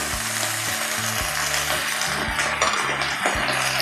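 Vegetables and crispy pork sizzle loudly in a wok as seasoning goes in, with repeated scraping strokes of a spatula against the pan at a steady rhythm.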